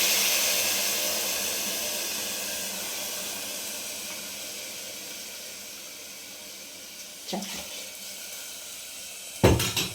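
Water poured into a pot of Gobindobhog rice for Basanti pulao, a steady rushing hiss that slowly fades, followed by a couple of brief clanks from the pot.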